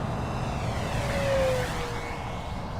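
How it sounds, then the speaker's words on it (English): An FMS P-40 Flying Tiger RC airplane at full throttle down a runway gives a steady, loud electric motor and propeller whine with a rising tone passing nearby. "I'll go ahead and give it full throttle right down the runway here."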